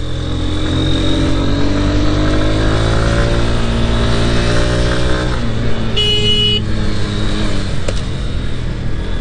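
A Honda Hornet 2.0 naked street bike being ridden, a loud close engine note whose pitch climbs steadily then drops, followed by a brief horn toot.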